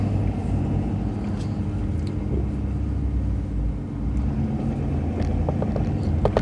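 A car idles and rolls at low speed while pulling out of a parking spot, giving a steady, close engine rumble from inside the cabin with faint ticking near the end and no voices.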